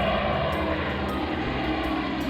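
Martin Mars water bomber flying over wildfires, its piston engines and propellers making a loud continuous droning roar that stays steady throughout.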